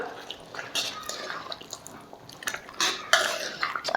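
Beef curry being mixed with garam masala in a pot, wet squelching and scraping of a spoon through thick gravy with occasional clinks against the pot, close and moderately loud.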